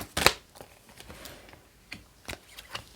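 Tarot cards being shuffled and drawn for a reading, giving a sharp flurry of riffling snaps near the start followed by several softer, separate flicks and slaps of cards spaced through the rest, close and fairly quiet with no talking.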